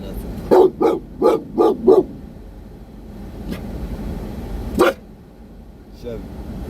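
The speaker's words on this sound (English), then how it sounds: "Making them bark at nothing." A dog barks five times in a quick rhythmic burst close by, then gives a single louder bark a few seconds later, with faint household background noise between.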